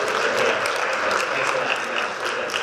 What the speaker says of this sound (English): Big round of applause for Julie.